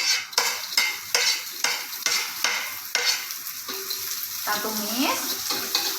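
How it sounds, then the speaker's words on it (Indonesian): Sliced chili peppers sautéing in a hot pan, a steady sizzle broken by a regular series of sharp stirring scrapes, close and fairly loud, with no talking. "Kita akan masukkan cabenya ya yang sudah diiris, kita tumis."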